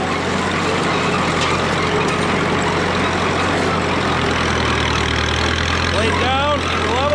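A Caterpillar D2 crawler bulldozer pushes into a dirt pile with its blade, its diesel engine rumbling steadily and loudly up close, with a voice faintly talking over it.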